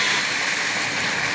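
Water gushing out of a backyard swimming pool as it is drained, a loud, steady, broadband rush close by with no pauses.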